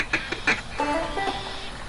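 Duck call quacking in a Duck Dynasty hunting video game, a few short nasal quacks followed by a longer rasping call, close and moderately loud over light background noise.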